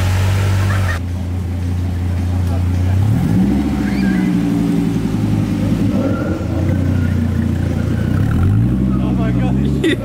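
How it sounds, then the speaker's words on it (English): A Ford Mustang doing a burnout at a car gathering produces a loud, sustained engine roar that rises and falls with revving, mixed with tire noise and crowd ambience throughout. "Mustang's doing a burnout down there."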